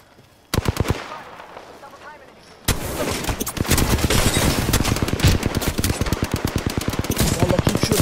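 Rapid automatic gunfire from the video game Apex Legends, loud and close, with a short burst, a pause, then long sustained volleys of sharp repeated shots.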